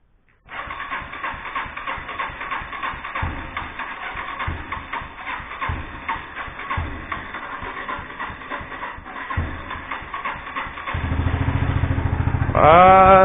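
A Yamaha SR 125 motorcycle engine starts up after a short silence and settles into a steady single-cylinder idle, close by and fairly loud, with a louder rev near the end.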